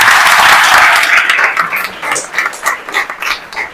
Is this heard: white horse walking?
no